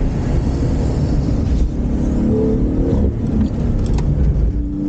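A Porsche 911 GT2 RS with a 3.8-liter twin-turbocharged flat-six engine drones loudly and continuously at speed, with a steady mechanical roar and wind noise, no voices.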